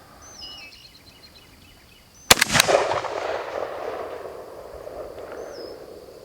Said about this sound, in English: Our first shots from the Riley Defense AK.